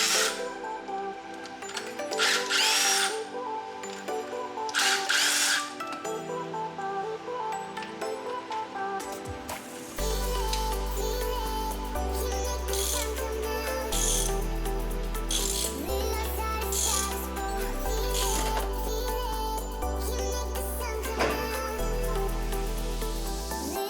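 Power tool and ratchet work on a Cadillac CTS-V engine, removing cylinder head bolts on an engine with a lifter tick: loud rattling bursts and clicks, then heavy rhythmic mechanical thumps from the second half onward.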